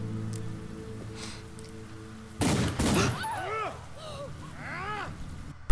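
Gunfire in The Walking Dead: Michonne video game: a loud burst of shots around the middle, followed by ringing, bouncing tonal echoes and a sharp final crack at the end, over low background hum.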